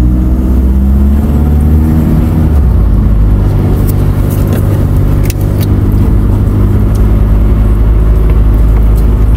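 Steady loud car engine drone from inside a moving vehicle in traffic, a constant low rumble with road noise that holds throughout, no speech.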